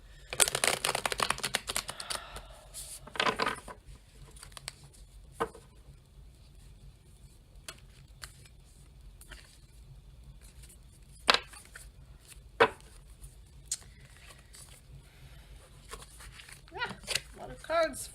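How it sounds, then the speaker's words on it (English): Tarot cards being shuffled by hand, with a loud burst of riffling and flicking at the start, then scattered sharp snaps and slides of cards flipping over at intervals. "cards flipping over everywhere."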